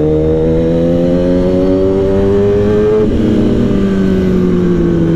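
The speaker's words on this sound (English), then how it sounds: "This bike with Kaibo's exhaust is very loud, yeah, very loud." A 2015 Kawasaki ZX10R motorcycle fitted with a loud aftermarket exhaust revs up close, its rising tone climbing steadily, then easing off and dipping again, loud and dominant with no talking.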